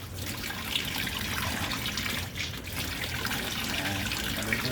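Water pours and splashes continuously over a Santo Niño statue during its bath, a soft, steady trickling and splashing heard close up, with no talking.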